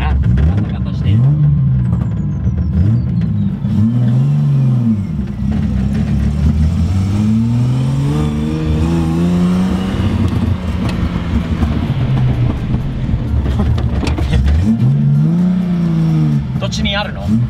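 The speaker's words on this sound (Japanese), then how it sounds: "この後ろにあるマフラーだと思うよな。 ガタガタしてる。" A Datsun 240Z drives along with its rear muffler rattling, a loud continuous engine drone that rises and falls with the revs while people talk inside the car.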